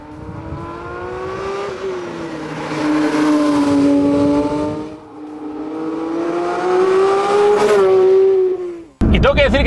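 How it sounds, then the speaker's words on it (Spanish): A 2024 Porsche 911 GT3 Touring accelerates hard out of curves, its engine rising in pitch through long loud revving pulls, easing off between them, with a brief tire-scrub squeal near the end, heard close and without speech. "eres capaz de acelerar muy pronto en las curvas y salir endiabladamente rápido hacia las rectas"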